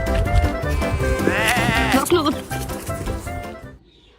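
A toy sheep gives a wavering electronic bleat, a single drawn-out call heard close and fairly loud over a busy, cluttered background.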